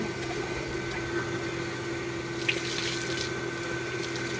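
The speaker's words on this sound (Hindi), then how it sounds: "मैं पानी बदलूँ मशीन को।" Water runs and splashes continuously as the water in a washing machine is changed at home, a steady rushing flow with a faint hum under it.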